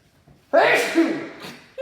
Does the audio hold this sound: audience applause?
no